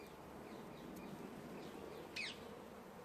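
Honey bees buzz steadily inside an open hive during an inspection, a dense continuous hum close by, with no voices.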